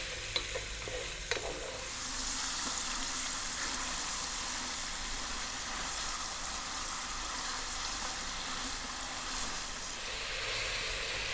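Beef cubes fry in butter over medium heat, a steady close sizzle running throughout with scrapes and knocks of stirring, sharper clatters near the start.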